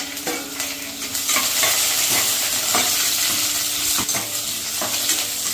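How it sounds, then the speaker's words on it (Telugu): Onions, green chillies and curry leaves sizzle steadily in a hot pan, with repeated scraping stirs of a spatula cutting through the loud, continuous frying hiss. "సో ఇవి బాగా వేగే వరకు మనము దీన్ని ఫ్రై చేసుకున్నాము."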